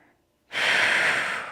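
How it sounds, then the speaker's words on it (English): A deep breath rushes in and out close to the mic during a morning workout, a single loud sustained exhale after a quiet pause. "Breathing nice and deep"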